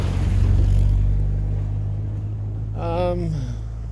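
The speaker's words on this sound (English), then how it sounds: "Oh, we got a vehicle." A vehicle rumbles past on a forest road, loud at first and then fading, with a steady low hum throughout and a brief voice near the end.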